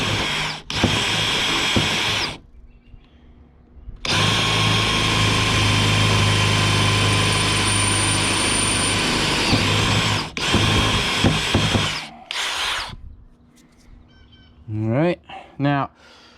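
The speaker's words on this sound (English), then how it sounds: "Now, I like to drill fast and just let the drill do the work." Power drill boring holes in an Old Town Bigwater canoe hull, loud sustained whirring bursts separated by short pauses, with brief lower spin-downs near the end.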